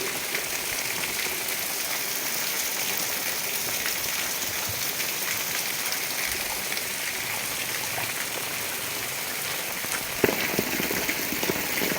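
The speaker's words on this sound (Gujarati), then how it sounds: "ખૂબ જ સારો વરસાદ પડી રહ્યો હોય." Heavy rain pours down steadily over Kodinar town in a dense, even hiss of drops hitting the streets and surfaces, continuing without a break.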